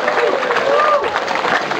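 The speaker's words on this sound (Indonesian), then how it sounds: "Tepuk sikit, friend." A crowd at a comedy and music concert claps together in a brief, close, dense burst that holds steady throughout, with a voice or two faintly audible underneath.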